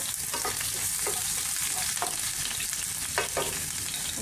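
Chopped garlic fries in hot white oil in a kadai, a steady loud sizzle punctuated by a few sharp scraping stirs of a utensil against the pan.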